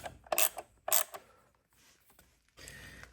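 Bolts on a Harley-Davidson derby cover are tightened by hand, giving a few quick ratcheting clicks and creaks close up, then a softer mechanical rasp after a pause.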